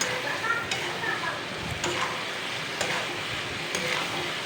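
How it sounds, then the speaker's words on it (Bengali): Okra frying in mustard paste in a pan for a Bengali-style spicy dish, a steady close sizzle and crackle with a few light ticks of a utensil, and a voice heard faintly. "আমি এখন এটিকে একটু ফ্রাই করে নিই পাঁচ মিনিটের মতো"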